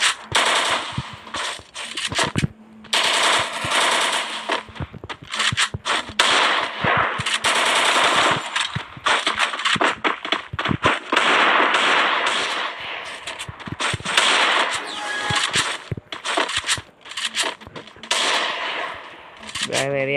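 Rapid automatic rifle bursts crackle in a first-person shooter match, loud sharp volleys broken by brief gaps, with a few isolated shots and a voice talking faintly underneath.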